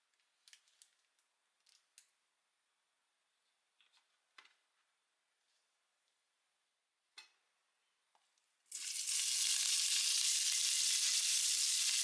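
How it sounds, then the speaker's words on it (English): Ham hits hot oil in a Tefal Cook4Me cooker: after several quiet clicks and small handling taps, a loud, dense sizzle bursts in and holds steady at close range. "After the cooker heats up, add the oil, then add the ham and stir it for a few seconds."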